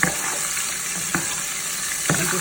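Shrimp fry with Sazon seasoning in a pan, giving a steady, close sizzle with a bright hiss, broken twice by short scraping clatters as they are tossed around.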